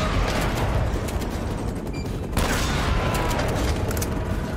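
Shotgun blasts and gunfire in the action game Uncharted: Drake's Fortune, a dense, loud barrage of overlapping shots and impacts with a brief lull mid-way before the firing resumes, no talking.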